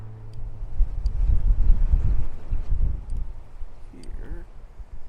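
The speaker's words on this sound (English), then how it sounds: "this wind is so fucking obnoxious" Wind gusts outdoors during plein air painting in a mountain town, buffeting the microphone with loud, low rumbling bursts that swell and fade.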